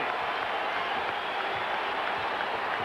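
A basketball arena crowd at a 1990 Bulls versus Knicks game cheers and applauds, a steady loud roar with a continuous wash of clapping throughout.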